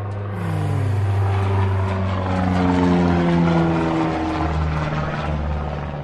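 A small aircraft flies low over fields near Notre-Dame-des-Landes, France, with a loud, steady propeller drone whose pitch slowly shifts as it passes close overhead.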